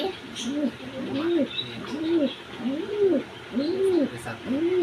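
A domestic pigeon coos close by in a regular series of about five soft, rounded, throaty calls, each lasting under a second, with faint background noise between them.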